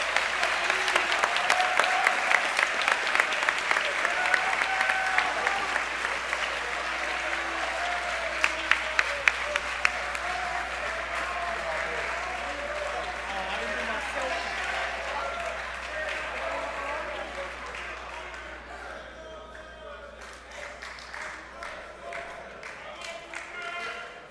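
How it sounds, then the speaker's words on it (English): A school election assembly audience applauds political candidates, sustained dense clapping from a large crowd lasting over twenty seconds, loud and steady before gradually thinning out toward the end. "May we all give these candidates a round of applause."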